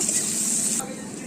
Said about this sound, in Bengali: পেঁয়াজগুলো আমি ভালো করে লাল লাল করে ভেজে নেব।